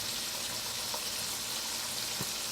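Onions frying in a pan with a bit of seasoning while cabbage is being cooked, a steady bright sizzle throughout with faint occasional pops and no talk.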